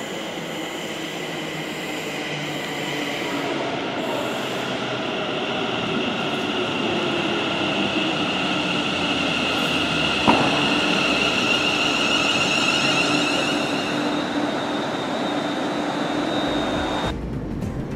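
A train rumbles steadily along the rails with a constant mechanical drone and faint high whine, continuous and fairly loud throughout.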